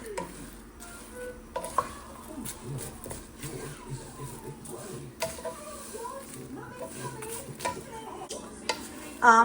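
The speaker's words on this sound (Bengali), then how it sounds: "আমি হালকা তেল দিয়ে এটাকে ভেজে নিচ্ছি" Fox nuts and flattened rice sizzle gently in a pan of light oil with onions and peanuts while a spoon stirs and scrapes through them in irregular strokes, close by.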